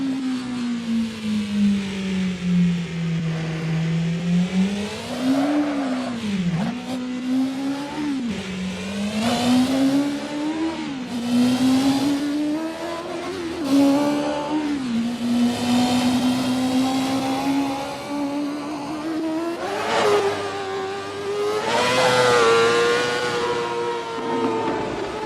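Turbocharged engine revving hard toward 18,000 RPM, its pitch sweeping up and dipping repeatedly in loud, continuous pulls, with a little tire noise, and no talking.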